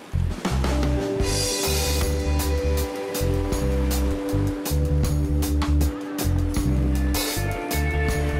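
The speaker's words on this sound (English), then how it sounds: "this little pier thing is so cool. It's like, ooh, going along with the waves" Ocean waves rocking a small floating pier at Koh Samet, with continuous sloshing water and rhythmic pulsing surges close by and fairly loud.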